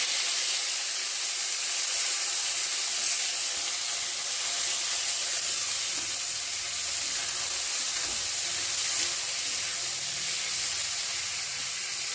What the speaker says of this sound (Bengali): ভাজা হয়ে গেছে, এখন সবজিগুলো দিয়ে দিচ্ছি